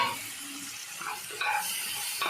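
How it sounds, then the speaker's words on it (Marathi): Onions frying in a pan for pav bhaji, a soft sizzle under brief scraping and stirring strokes with a faint utensil clink, heard close up in a short burst with no voices. "चांगलं ब्राऊन होईपर्यंत तळून घ्यायचं"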